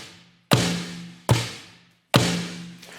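Three deep, low-pitched hits from a Yamaha DTX-PRO electronic snare, head and rim retuned all the way down, spaced apart, each with a heavy thud and a long, darker decay, close and loud.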